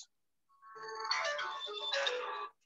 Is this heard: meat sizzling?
no